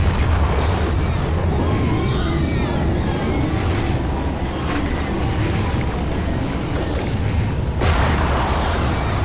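Bomb explosions in a dense, loud barrage of booming blasts that roll and overlap continuously, close and heavy, with a sharp fresh burst near the end.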